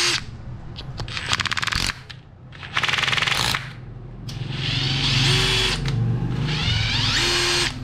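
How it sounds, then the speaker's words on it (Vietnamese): A Makita 141D 18V cordless impact driver runs in hammer screw mode in several loud, close bursts of rapid rattling impacts separated by short pauses, with faint handling noise and no talk. "Test chế độ dít búa thôi ha."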